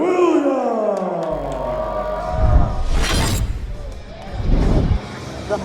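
An arena crowd at a Fight For It XVII MMA event roars for home fighter Dylan Williams of Hickory, North Carolina. A voice speaks over the start, then two loud surges of cheering and whooping rise and fade.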